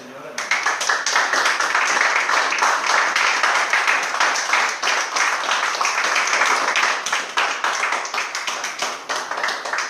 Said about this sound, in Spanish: Le da un aplauso al Señor, hermano.